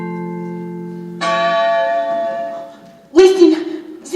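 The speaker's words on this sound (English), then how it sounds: "Listen, the church bells!" Church bells ring with a sustained, resonant tone during a live stage play, a fresh strike entering partway through, followed by a burst of close speech.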